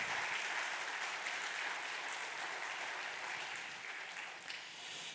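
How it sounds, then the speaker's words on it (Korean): Applause from a church congregation during a Sunday worship service, a steady wash of many hands clapping throughout, filling the room and easing slightly toward the end. "우리 환영과 감사를 담아서 한 번 더 박수 쳐주면 좋을 것 같아요"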